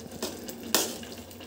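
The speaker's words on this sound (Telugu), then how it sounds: "1 కప్పు వాటర్ పోసాము సరిపోతుంది" A cup of water poured into a pot of chicken biryani: two short splashing gushes, the second louder, in a quiet kitchen.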